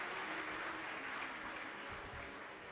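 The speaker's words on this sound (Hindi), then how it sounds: "एक बार जोरदार ताली बजाकर उनके लिए साधुता।" An audience claps loudly at a devotional gathering, a dense, sustained burst of applause that fades slightly toward the end, with no voices heard.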